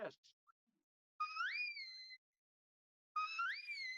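Two long, rising two-tone whistles, clear and piercing, separated by a short silence, with a brief click at the start; a shepherd whistling commands to a sheepdog on a sheep farm.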